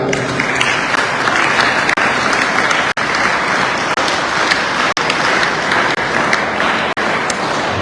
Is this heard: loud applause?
yes